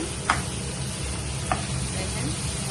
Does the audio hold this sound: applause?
no